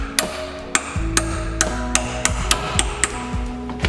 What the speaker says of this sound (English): we're going to hammer this in the oil filter, twist it like that